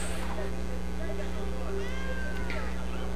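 Cat meowing in the video game Dark Corridors 2, a few short rising meows over a steady droning game background, with a voice talking over it.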